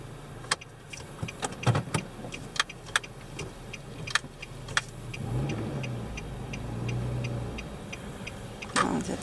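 A car's turn signal ticking steadily during a driving lesson for a road test in Florida, close inside the cabin, with a low engine rumble swelling midway and no talk.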